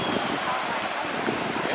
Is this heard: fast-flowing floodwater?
yes